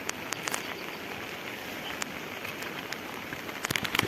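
Heavy monsoon rain pours onto flooded paddy fields in the Konkan, a dense, even hiss of drops with scattered sharper patters, steady throughout and growing slightly louder at the end.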